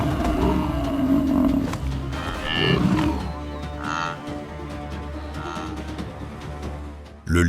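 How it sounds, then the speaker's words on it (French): A lion roars and snarls while attacking prey on the savanna, heavy growls rising and falling over a low rumbling background, with a sharp loud burst at the very end. "Le lion accélère, les muscles tendus, et se jette sur sa cible, s'agrippant à son dos."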